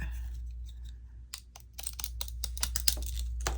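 Scissors trimming a paper tab for a doodle journal, giving a quick series of crisp snips and light rustles close by.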